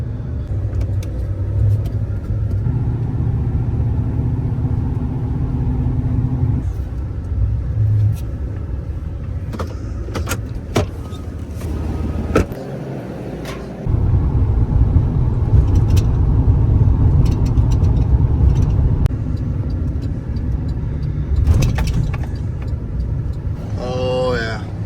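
A Ram 2500 pickup truck idles during a heavy snowstorm, a steady low rumble heard from inside the roomy cab with occasional clicks and handling noises over it.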